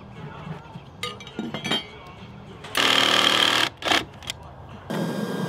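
A power saw cuts a wooden deck joist during outdoor framing, sounding as a loud, broadband burst of about one second midway, then a short second burst, with background clatter and voices nearby.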